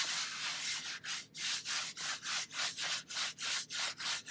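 Paper burnished onto a gel printing plate, a rhythmic series of about a dozen dry rubbing strokes, close and fairly loud, evenly paced with no voices.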